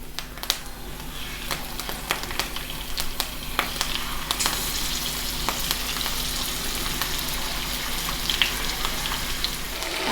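Fish pieces fry in hot oil with curry leaves at full flame, giving a dense, continuous sizzle and crackle with scattered sharp pops throughout.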